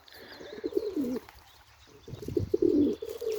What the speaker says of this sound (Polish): Gołębie do parowania zachęcają.